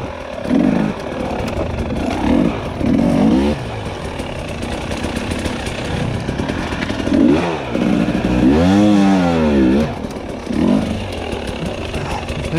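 Enduro motorcycle on a rooty singletrack trail, its engine revving in repeated bursts with rising and falling pitch as the rear wheel spins for traction, close and loud with clatter between revs.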